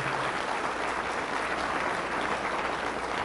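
Loud, sustained applause from a church congregation honoring Jesus of Nazareth, a dense steady clapping wash with no pauses, heard without speech.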